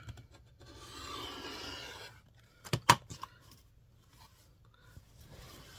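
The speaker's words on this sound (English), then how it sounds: "And this is just how I trim it. I just take my straight edge" A quilt is trimmed against a straight edge, starting with a soft rubbing, scraping stroke and then a cluster of sharp, close knocks and clicks. Lighter handling noises follow in an otherwise quiet room.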